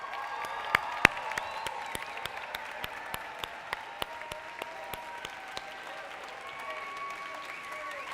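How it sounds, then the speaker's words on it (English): An audience applauds and cheers for parents and family members standing at a university student orientation event, steady clapping filling the room with scattered whoops rising over it. "I would love for everybody to cheer for these people"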